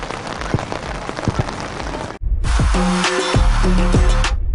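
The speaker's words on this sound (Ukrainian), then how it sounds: "Дощ не завада." Rain falling during an outdoor football match, a steady hiss with scattered drop impacts and thuds, briefly cutting out before returning louder with tonal hum and clatter.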